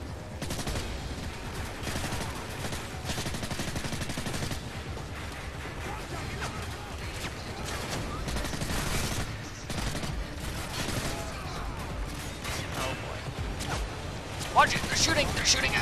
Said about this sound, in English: They're shooting at us! I'm shooting back